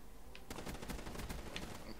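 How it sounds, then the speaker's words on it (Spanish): Gunfire in Call of Duty Black Ops 3, a rapid burst of automatic shots crackling in quick succession, fairly faint and slightly distant, with no talk over it. "Sigue habiendo tiros. Qué guay."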